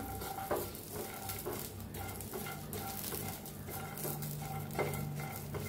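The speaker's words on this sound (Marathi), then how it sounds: "भाजलंय बघा, मिरची लसूण अद्रक भाजलंय।" Green chili, garlic and ginger dry-roast in a pan, soft crackling under intermittent spatula scrapes and light clinks against the pan, fairly quiet and close, with no one speaking.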